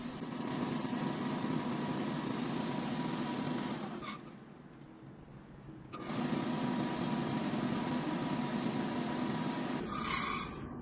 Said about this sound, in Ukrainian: контролер знову намагається запустити нагрівач, але коли бачить, що газу немає, буде йти в аварію